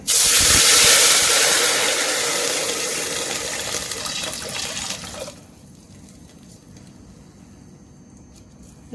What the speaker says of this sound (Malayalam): ഇനി ഇതിൻ്റെ അകത്തേക്ക് ഒരു നാലര ഗ്ലാസ് വെള്ളം എടുത്ത് വെച്ചിട്ടുണ്ട് കേട്ടോ അത് ഒഴിച്ചു കൊടുക്കേ